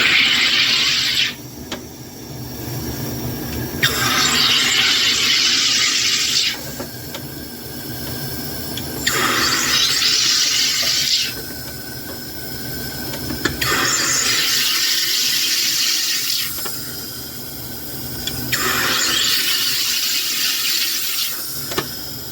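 A SodaStream Fountain Jet sparkling water maker carbonates water in five loud, hissing bursts of gas, each lasting about two seconds, with short pauses between them.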